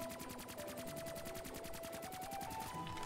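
Automatic weapon fire in Black Ops 3 custom Zombies: a sustained burst of rapid, evenly spaced shots, loud and close, with a steady tonal game sound running underneath.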